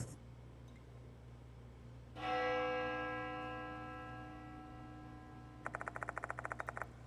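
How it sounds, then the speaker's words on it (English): A single bell struck in the horror game Death Mark II rings out clearly and lingers in a long ringing decay. Later a quick run of bright, rapid metallic chimes follows over a low steady hum. "The sound of a bell echoes in my ears."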